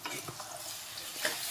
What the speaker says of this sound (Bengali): আমি নাড়তে থাকবো।